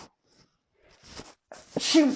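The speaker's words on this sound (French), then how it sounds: "j'éternue du côté du micro" A single person sneezes close to a microphone, with a faint breath just before and a sharp, loud burst at the end; no speech.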